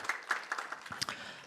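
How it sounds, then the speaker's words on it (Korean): Light applause from a modest audience at a Gwangju city council policy forum on migrant health rights, scattered individual claps rising and fading over a brief moment. "힘차게 박수 한번 부탁드릴게요."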